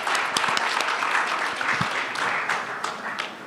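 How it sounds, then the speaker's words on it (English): Steady audience applause for the winners of the IGNITE Food Systems food challenge, dense and even clapping from a crowd heard alone with no talk. "I really would like us to applaud one more time all the winners"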